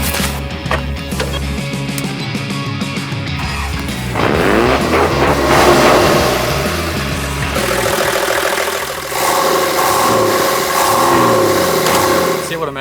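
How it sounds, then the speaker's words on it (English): A car engine with naturally aspirated induction noise from a straight-six diesel intake hose idles, then revs up loudly several times in close, rising and falling surges. "fix the horrible naturally aspirated induction noise with a straight 6 diesel hose"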